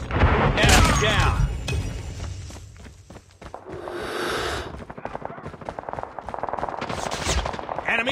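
Gunfire in a Call of Duty team deathmatch on the Meltdown map, with bursts of shots and heavy impacts mixed with game voices and radio callouts.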